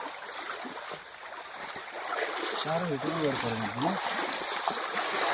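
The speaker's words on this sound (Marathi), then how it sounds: "नदीला नाही आहोत आम्ही, ओढ्याला आहोत." Water rushes and gurgles steadily along a small stream at night, a continuous close wash of sound, with a person's voice rising briefly over it partway through.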